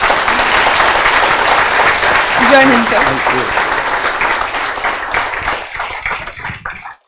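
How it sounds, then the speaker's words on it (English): An auditorium audience gives sustained, loud applause to welcome Major General Ajay Singh Chauhan at a student session. A brief voice speaks over it midway, and the clapping thins and fades toward the end. "Let us give a thunderous round of applause and welcome the real hero of India."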